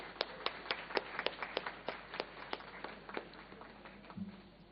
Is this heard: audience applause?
yes